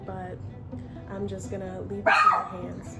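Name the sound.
dog barking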